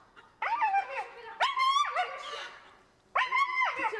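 A dog gives three bursts of high, whining yelps and barks while chasing a chicken, each cry rising then falling over a couple of seconds, close and fairly loud with short gaps between.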